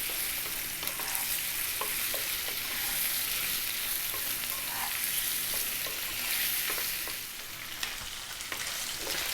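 Fish stir-fried in oyster sauce and soy sauce over high heat sizzles steadily and closely, with scattered clinks and scrapes of constant stirring, no voices.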